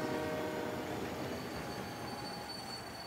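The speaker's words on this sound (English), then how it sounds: "As if a train has that good brakes." Freight train in the Forza Horizon 3 racing game, a loud steady rumble of rolling rail wagons with high squealing wheel tones sustained throughout, no speech.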